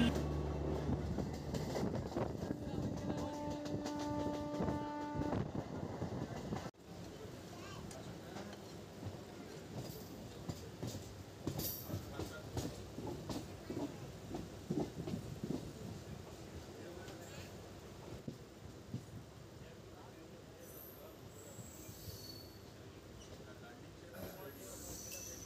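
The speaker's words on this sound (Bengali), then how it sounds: "এবার আমাদের শেষ গন্তব্য নামখানা স্টেশনের দিকে ছুটে চলল ট্রেন।" A local train runs toward Namkhana station on the Sealdah line, its steady rumble and wheel noise continuous throughout, with a brief horn-like tone early on and scattered squeals and knocks; voices are faintly present.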